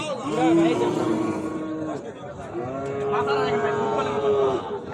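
A solid, all-black Friesian cross bull moos at a farm purchase, two long, loud, close calls with people talking around it.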